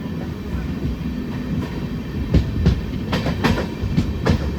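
Palaruvi Express with LHB coaches rolling along the rails near Tuticorin, a steady low rumble with rhythmic clickety-clack wheel beats over rail joints, heard close up from on board.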